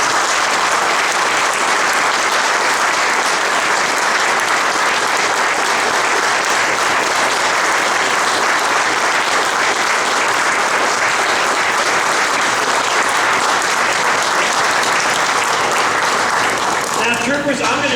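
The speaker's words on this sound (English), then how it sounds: "So please, another round of applause." A crowd at a restaurant gathering with a state governor and troopers gives a long, loud, sustained round of applause that stays dense and even from start to finish.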